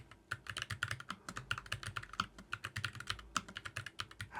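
Someone types on a Keychron K2 HE keyboard, producing a quick, irregular run of crisp key clacks close up, with no voices.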